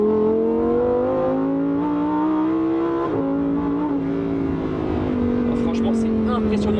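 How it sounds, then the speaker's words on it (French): A Lamborghini Huracan Tecnica supercar engine revs while driving, a loud, steady high-pitched wail with clear rising and falling pitch and a brief gear-change dip midway, heard up close from inside the car. "Oh, franchement, c'est impressionnant la sonorité de la voiture."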